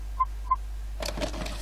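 Two short, bright bonus chimes from a falling-themed video game hug bonus worth 100 points, spaced about a third of a second apart, followed by a brief burst of busier game noise.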